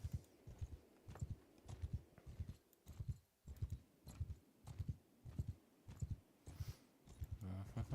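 A horse's hooves clip-clop at a steady, rhythmic gait in the video game Mount & Blade Bannerlord. The evenly spaced footfalls are quiet and repeat throughout.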